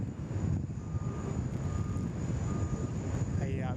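Airbus A380 departing Sydney Airport, a low continuous engine rumble heard from a distance with wind noise, holding fairly even, while faint radio-like tones and chatter sit in the background.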